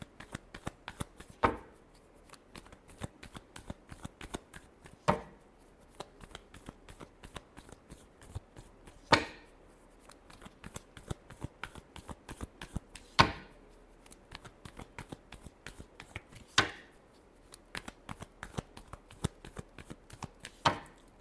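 Tarot cards are shuffled by hand in quick riffling bursts of dense, crisp paper flicks, with sharper snaps every few seconds where the deck is cut or tapped together, close up and with no talking.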